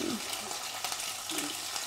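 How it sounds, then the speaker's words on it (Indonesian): Shrimp frying in a wok for fried rice vermicelli, a brief steady hot-oil sizzle with faint stirring clatter, close and fairly quiet, with no talk over it. "Tapi pertama-tama aku goreng udangnya biar kelihatan cantik"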